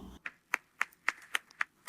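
Rhythmic hand clapping from Maduro's supporters, seven evenly spaced claps in about two seconds, close and fairly faint.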